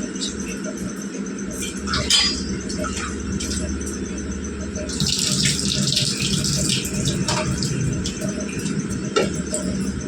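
Tap water runs into a sink while tamarind and tomatoes are washed by hand, a steady close splashing gush that swells louder halfway through, with brief clinks of handling and a voice speaking over it.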